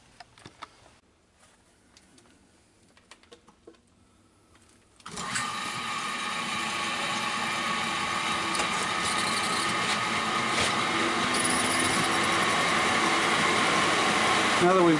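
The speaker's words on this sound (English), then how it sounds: "is my pony motor, which is just a little small motor" A little pony motor spins a larger motor up to speed through a belt, starting with faint clicks and handling noise, then a steady loud mechanical whir and hum that builds and holds to the end.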